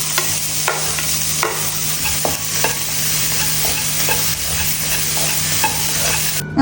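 A spoon stirs capsicum into butter and garlic in a pan, scraping at intervals over a continuous sizzle from close by, with no voices.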